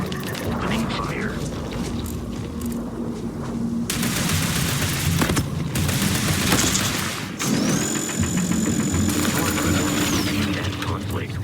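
Sustained gunfire from the video game Starfield, dense bursts of shots and explosions layered over continuous battle noise, with a rising whine near the end, loud and close throughout.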